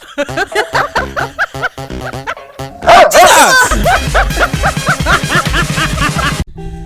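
A dog barks in a run of sharp, close barks and yips, then a louder, denser burst of barking and whimpering mixed with other noise before it cuts off abruptly.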